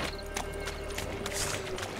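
Quick clip-clop of hooves from a running horse in The Witcher 3: Wild Hunt, steady and fairly close, with a busy mix of game effects around it.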